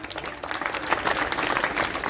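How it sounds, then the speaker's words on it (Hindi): Crowd applause at a village youth group's general knowledge competition event in Mathura, a short burst of dense clapping at moderate distance. "एक बार सुखवीर विकल जी के लिए जोरदार तालियां।"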